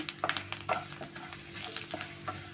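Cumin seeds and urad dal fry in hot oil in a pan for a cabbage stir-fry, a close, crackling sizzle broken by irregular spatters and stirring clatter, with no voices.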